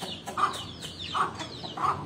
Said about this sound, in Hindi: ये दो वाइट किस्म के मुर्ग और साथ उनके मुर्गी है अंदर जाओ।